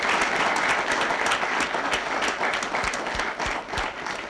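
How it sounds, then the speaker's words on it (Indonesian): A studio audience claps for a couple on an Indonesian TV talk show, loud sustained applause with a few sharper individual claps standing out near the end. "Dan kita tepuk tangan dulu untuk pasangan ini"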